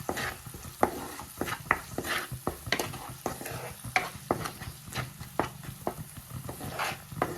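Chilli powder, turmeric and salt sizzle in a hot pan while a spoon stirs them in quick, repeated scraping strokes over a continuous low frying hiss, close and clear.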